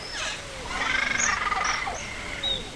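A colony of cacique birds in the Amazon rainforest sings loud, liquid whistles, gurgles and warbling calls that overlap densely in a continuous chorus.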